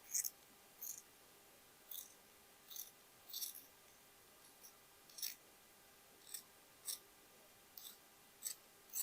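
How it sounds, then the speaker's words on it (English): Scissors snipping through leather flower shapes for a handmade bag, a dozen crisp, close metallic clicks coming in an uneven rhythm over a near-silent room. "Let's cut these flowers."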